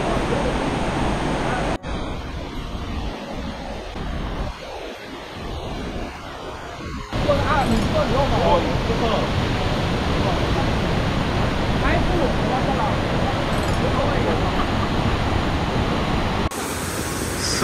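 A powerful waterfall on the Izu Peninsula throws heavy spray, producing a dense, loud roar of rushing water that swells and stays constant, with occasional rustling handling noises up close and no talking.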